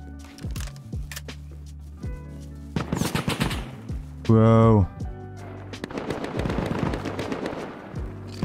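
A light machine gun fires in the survival game Rust, with sharp rapid bursts of automatic gunfire, one loud sustained volley near the middle, and more scattered shots under a player talking.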